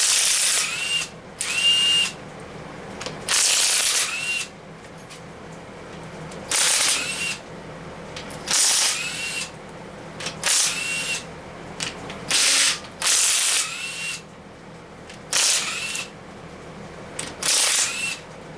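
Bolts being worked loose with a 5/8 wrench or driver on an old rebuilt motor, crusted with grime in the corners: loud, close bursts of whirring and rattling ratchet-like noise, repeating in irregular runs with short gaps between them.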